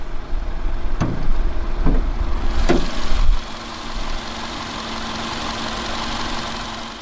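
A 2014 Volkswagen Polo hatchback's 1.6-litre 16-valve inline-4 idles with a steady, close engine hum, a few sharp knocks early on, then settles into an even drone.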